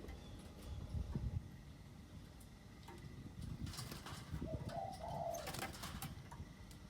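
A large wild dove offered for sale gives a soft, low coo over faint background rumble, with the call brief and fairly distant.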